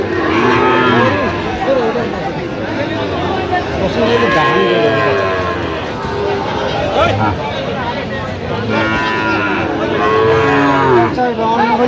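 Sahiwal bull calves and other cattle moo repeatedly at a busy weekly livestock market in Kurigram, deep calls rising over constant crowd chatter, with someone talking nearby.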